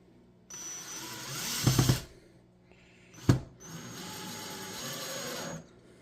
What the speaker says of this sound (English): Make sure the tool that you're using is set at a light impact, so you don't end up stripping out some of these holes.